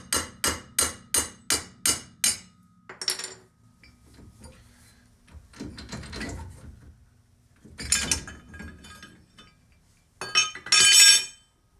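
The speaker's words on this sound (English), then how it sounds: "I do have a slide hammer" Slide hammer slamming against its stop while pulling on a car: a quick run of about seven sharp metallic clanks, then scattered knocks, scraping and heavier bursts of clanging, close by with no talk.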